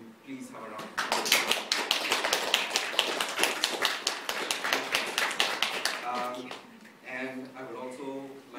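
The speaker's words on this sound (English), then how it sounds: "Can you please have a round of applause?" A crowd at a queer film festival claps steadily for several seconds, dense and lively, with voices and cheering mixed in before it fades back toward talk.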